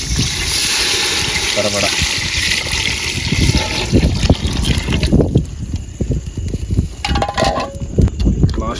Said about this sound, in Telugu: రైస్కి తగ్గ వాటర్ అయితే వేసేద్దాం